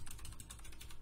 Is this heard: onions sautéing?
no